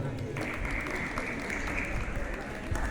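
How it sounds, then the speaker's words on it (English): A school audience at a World AIDS Day speech event applauds a student participant, a broad wash of clapping mixed with crowd murmur and some background noise, steady for about three seconds. "everybody give a big round of applause for Subhasi."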